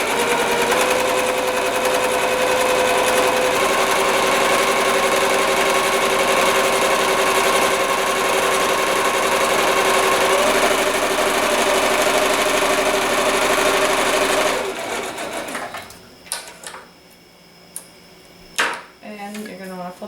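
Sewing machine stitching a quarter-inch seam down the edge of fabric for a wet bag, a steady loud mechanical whir running continuously before stopping abruptly, followed by a few faint handling clicks.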